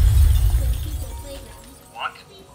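A short crack of breaking glass in a physics sandbox video game, one quick bright shatter following a low rumbling thud, fairly close and standing alone.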